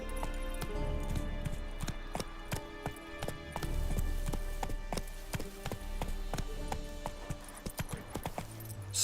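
Hooves of the horse Roach clip-clop in a quick galloping rhythm across ground in The Witcher 3, close and steady throughout, with faint jangling tack and the game's ambient backdrop.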